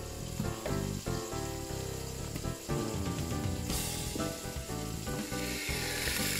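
Sausages fry in a hot pan, giving off a loud, steady, close sizzle with crackling pops throughout.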